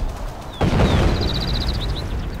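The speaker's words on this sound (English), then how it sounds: "So I'm going to try and continue to suppress the German infantry with artillery." Artillery fire in the Men of War video game, a sudden loud boom at about half a second followed by sustained rumble and a series of faint high whistles, with no talking.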